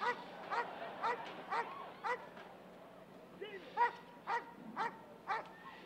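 Dogs yip, bark and whimper in quick repeated bursts at a performing dog show in Billings, Montana, sounding moderately near with crowd or voice murmur underneath.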